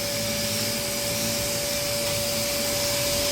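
A vacuum pump evacuating the air conditioning system of a Mitsubishi L300 gives a constant, loud mechanical drone with a steady hum running through it, unbroken and free of talk.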